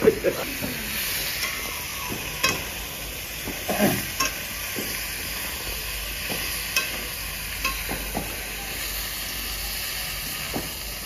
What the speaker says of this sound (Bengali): কেটে রাখা টমেটো দিয়ে দেবো।